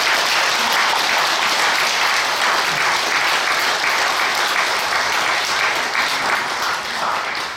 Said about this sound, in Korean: 이 시간 사모님 나오실 때에 우리가 힘찬 박수로 환영하면서 맞이하겠습니다